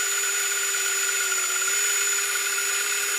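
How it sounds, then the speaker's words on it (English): A power drill boring a hole into the curved plastic base of a solar firefly globe light, giving a steady, close, unbroken whine with constant pitch and no pauses or talk. "this is where drilling onto a curved object is always a bad idea while you're holding it"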